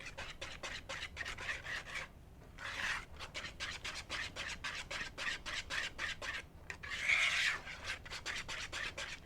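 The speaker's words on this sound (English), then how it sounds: "you're whisking and getting the sides of the bowl so that everything" Whisk scraping through colorful funfetti icing around the sides of a bowl, a close, quick rhythmic rasping and swishing with short pauses, steady and fairly quiet.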